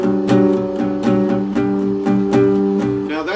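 Guitar ringing out a major seventh interval, a sustained chord with rhythmic strummed or picked attacks repeating steadily, close and clear with no talking.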